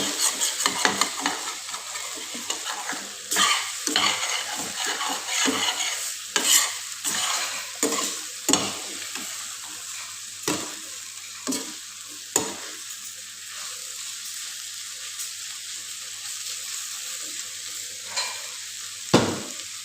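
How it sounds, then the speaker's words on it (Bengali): Cauliflower frying in a pan for crisp fritter-style pieces, with a steady close sizzle broken by repeated sharp scrapes and clanks of stirring every second or so, no talking. "তাহলে লাল লাল করে ভাজি করব"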